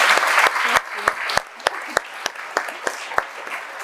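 Audience applause for a contestant on a live French talk show, a short burst of clapping that thins into scattered individual claps, with talk running faintly underneath.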